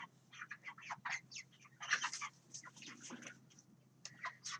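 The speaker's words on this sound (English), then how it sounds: "You can hear that they are now clucking instead of cheeping." Young chickens in a coop cluck in short, repeated bursts, several birds calling close by in an irregular chatter over a low background hum, with no speech.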